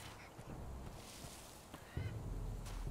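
A bird attacks near its nest in the survival game Survival: Fountain of Youth, giving harsh honking, goose-like squawks over a constant loud noisy background, with a heavier thump of action partway through.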